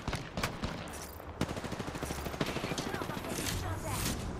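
Rapid automatic gunfire crackles through an Apex Legends battle royale match, a steady stream of quick shots rattling on for several seconds at moderate distance, with a few louder single cracks mixed in.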